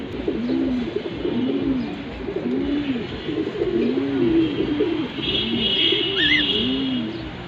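Big, light-coloured racing pigeons, a male and a female, coo steadily in repeated low rolling phrases, close and fairly loud, over a constant background hiss with a brief higher chirp near the end.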